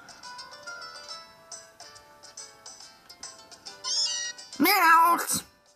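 Meowth meows in Pokemon Ultra Moon as a synthesized game cry, loud and sharp near the end, over a backdrop of plinking game music.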